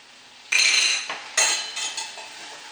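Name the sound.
stirring flour and butter in a pan for gravy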